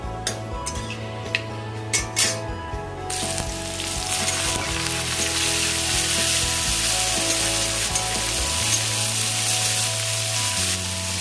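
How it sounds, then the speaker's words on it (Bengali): Dried red chilies and Bengali five-spice hit hot oil in a pan. A few clinks come first, then a loud, steady sizzle takes over and runs unbroken to the end. "এই শুকনো লঙ্কা 5 ফোড়নটা দিলাম, দিয়ে একটু ভাজা ভাজা হবে"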